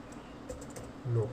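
Keystrokes tap on a computer keyboard while someone enters a server name in a PHP and MySQLi tutorial, a few soft, close clicks ending in a slightly louder thump, with no talking.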